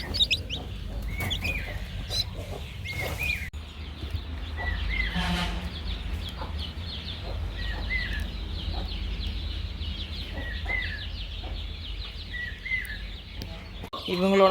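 Hen clucking steadily with faint chick peeps in a coop at hatching time, repeated soft calls over a constant low background hum, fairly close.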